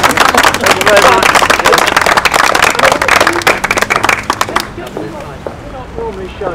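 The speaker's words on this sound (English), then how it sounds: "Big round of applause for Dennis." Audience at a small library event applauding Dennis, a dense burst of clapping from a crowd that tapers off after several seconds, with voices talking near the end.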